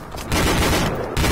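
Bursts of video game gunfire crackle in quick, dense volleys, like automatic weapons exchanging fire during a castle defense battle, loud and rapid with short gaps between the bursts.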